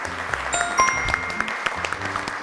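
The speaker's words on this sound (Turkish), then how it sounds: "Mucitlere bir alkış geliyor." Studio audience claps for a children's quiz show team, light scattered applause over bright electronic tones and a few sharp accents, fairly close and brief.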